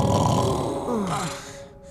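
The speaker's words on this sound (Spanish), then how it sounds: "Está roncando otra vez." A man snores in a sleeping, horizontal position, with a rough, rasping breath filling most of the moment and trailing off at the end.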